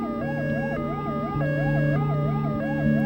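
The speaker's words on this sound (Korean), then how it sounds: "1963년 12월 8일 도쿄의 밤거리를 질주하는 앰뷸런스가 있었다" An ambulance siren wails through Tokyo streets at night in 1963, a loud, steady two-tone warble cycling repeatedly with a sustained higher tone, alone without voices.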